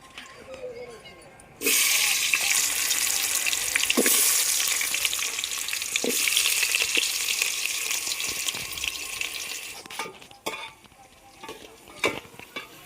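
Potato pieces fry in oil over a wood-fired stove, a loud, steady sizzle that starts abruptly and holds for about eight seconds before dropping to a quieter crackle with scattered clicks and stirring knocks.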